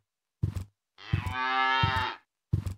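A cow in the video game Deponia gives one drawn-out, tonal moo lasting about a second, loud and close, framed by short thumping footstep-like knocks before and after.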